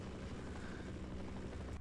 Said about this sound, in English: Aw, the helicopter's back.